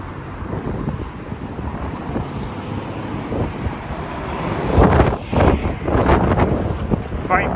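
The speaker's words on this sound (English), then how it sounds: "Fatos, it is windy. Really windy" Strong wind buffets the microphone outdoors on a city street, a loud continuous rumble with gusts that swell near the end.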